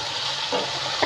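Whole spices for an Andhra-style biryani, including star anise, cloves, cinnamon, ginger and poppy seeds, sizzle steadily in hot oil in a pan, a close, continuous frying hiss with a couple of brief stirring scrapes and no talking.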